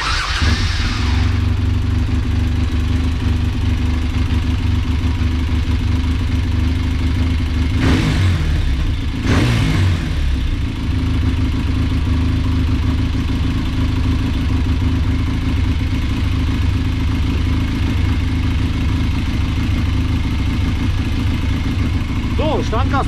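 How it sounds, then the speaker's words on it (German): A Yamaha TDM850 motorcycle engine idling at a steady, even rumble close by, with a couple of brief throttle blips partway through and someone talking over it. "Standgas läuft immer schön."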